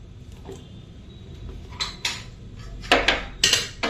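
A spoon clinking and scraping against a bowl while wheat semolina dosa batter is mixed with rice flour, quiet at first, then several sharp close metallic knocks and scrapes in irregular bursts, with no talk.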